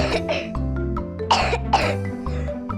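A child coughs several times in quick bursts, close and fairly loud, with brief pauses between the harsh coughs.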